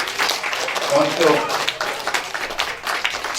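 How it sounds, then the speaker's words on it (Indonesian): Guests at an engagement ceremony clap for the couple, a scattered round of applause at moderate volume running underneath someone speaking over it. "kita beri tepuk tangan dulu"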